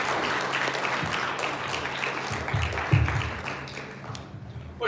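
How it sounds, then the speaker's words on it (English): An audience applauds at a live event, producing a sustained wash of clapping with a few louder claps near the end. "Could you give her a big round of applause if you don't mind?"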